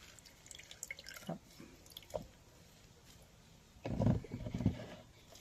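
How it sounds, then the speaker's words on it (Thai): Kaffir lime juice is squeezed and drips into water, with scattered faint drops and small squishes, then a louder cluster of wet squeezing and splashing near the end, all quiet and close. "บีบน้ำมะกรูดลงใส่น้ำครับ"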